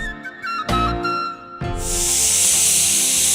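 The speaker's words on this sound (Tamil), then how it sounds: "3 விசில் வந்துடுச்சு. குக்கரை ஆஃப் பண்ணுறோம்." A pressure cooker holding banana-flower kofta on the stove whistles in shrill bursts. It then gives a loud, continuous hiss of escaping steam that drowns out the kitchen clatter.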